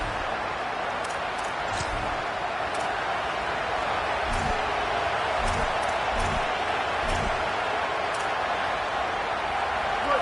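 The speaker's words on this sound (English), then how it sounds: "This crowd ready to make its presence known." Steady stadium crowd roar at an NCAA college football video game, a dense continuous wash of cheering with occasional sharper shouts rising out of it, loud and unbroken throughout.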